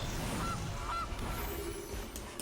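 Faint goose honks sound as a card is played in a Magic: The Gathering style video game, two or three short calls over a dense, noisy background.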